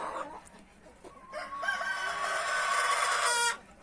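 Hens in a backyard coop, one with a bright red comb ready to lay, cluck and crow in a busy overlapping chorus, with a long drawn-out crow rising loud near the end before cutting off.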